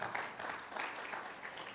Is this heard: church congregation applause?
yes